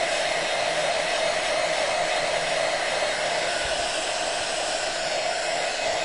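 A hair dryer blowing on wet paint on a sunflower painting, a loud, steady, close whirring rush that runs unbroken throughout.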